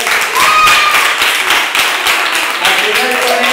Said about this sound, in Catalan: I un fort aplaudiment als primers